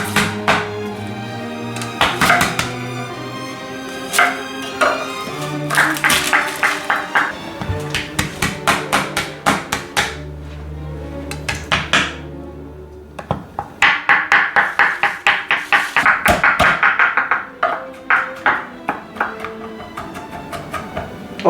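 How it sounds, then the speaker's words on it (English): Garlic chopped with a knife on a cutting board: clusters of rapid, sharp knocks in repeated bursts, close and fairly loud, with short pauses between runs. "We're going to chop up some garlic."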